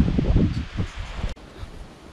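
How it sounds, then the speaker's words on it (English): Wind in open countryside near a castle rumbles and buffets close to the microphone in low gusts, easing into a softer, steady hiss for the final second; no speech. "It's actually really windy."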